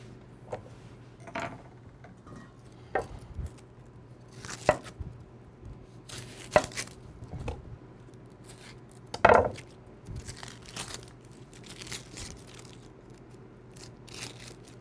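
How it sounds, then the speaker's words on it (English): A knife chops red onions on a cutting board, making scattered close sharp cuts at an uneven pace over a quiet, steady background hum. "cut some of my red onions that we're going to be using, you know, for our potato salad"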